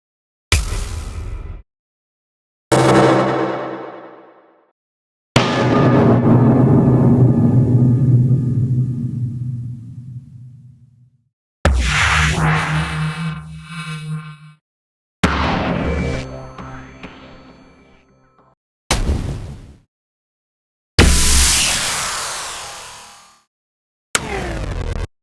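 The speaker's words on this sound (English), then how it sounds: "It consists of 8 different impact sounds." Eight separate impact sound effects played one after another with short silences between: heavy booming hits, some with long rumbling tails and whooshing decays, loud and close, each standing alone.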